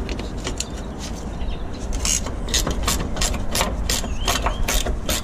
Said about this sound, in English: Now, let's get these nuts off of here. Which is why I brought these ratchet spanners.